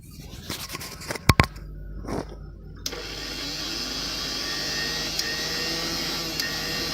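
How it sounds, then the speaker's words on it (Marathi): After a few clicks and clunks, a mixer grinder motor whirs up and runs steadily at a loud, constant drone until the end. "आता अपन मिक्सर लावून घे"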